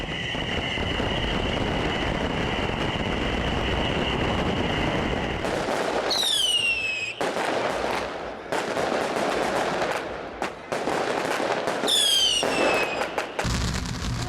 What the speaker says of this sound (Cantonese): 萬千支煙花瞬間齊發